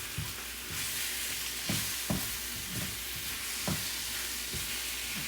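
An egg sizzles and fries steadily in a pan, the broadband hiss holding through the clip with a few soft knocks of a utensil against the pan; no one talks.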